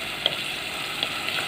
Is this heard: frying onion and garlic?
yes